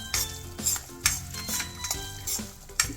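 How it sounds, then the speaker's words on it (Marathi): Sliced bananas stirred into semolina roasting in a pan for sheera prasad, a series of spoon scrapes and clinks against the pan in an uneven rhythm, close and clear, with a soft sizzle underneath. "केळी घालून घेऊया।"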